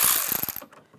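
Ratchet tightening bolts on a 2005-2010 Dodge Dakota interior door handle: a short burst of close, quick ratcheting clicks that trails off into quieter handling noise, with no talk.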